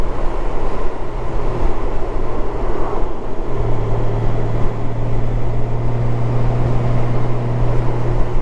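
A Honda Goldwing 1800 DCT motorcycle accelerates to overtake on the road, its engine hum rising in a steady drone under heavy, continuous wind rush recorded from the rider's seat.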